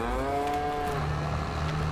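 Cattle on a Farming Simulator 22 farm let out a long, low moo that bends downward in pitch, then a deeper, sustained lowing, all set against a steady background hum with no talking.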